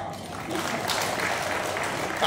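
Applause from an audience at a credit union's annual members' meeting in Pontianak, steady clapping throughout, moderately loud and spread out, with some talk mixed in.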